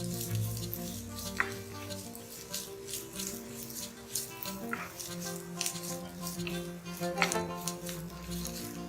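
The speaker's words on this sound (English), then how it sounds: "We just need to saute the onions until it becomes pink or translucent" Thinly sliced onions sautéing in a pan for fish molee make a continuous close sizzle, with scattered scraping and light clatter from stirring throughout.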